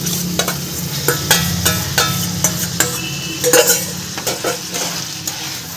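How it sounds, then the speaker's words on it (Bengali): Spoon stirring fried capsicum and onion into a sizzling potato masala for dhaba-style aloo bhuna, with a steady frying hiss under repeated scraping strokes and light metallic clinks of the pan. "ক্যাপসিকামটা দিয়েও এবার ভালো করে মিশিয়ে নেব"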